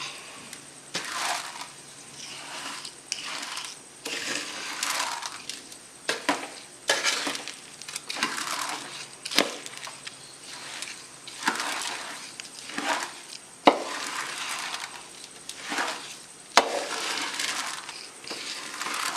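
Sweetened flattened rice (aval) stirred in a pan over low heat gives a steady rustling, crunchy scraping, with repeated strokes of a spoon through the dry grains throughout.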